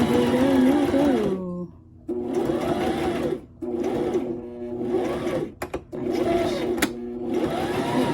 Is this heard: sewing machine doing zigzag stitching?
yes